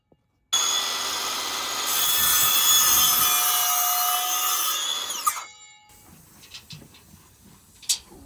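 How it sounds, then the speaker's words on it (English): A power saw cuts wooden lathing strips for a barn roof, whining loudly and close through the wood before spinning down, followed by a few light knocks and clatters. "Let's get these lathing strips cut."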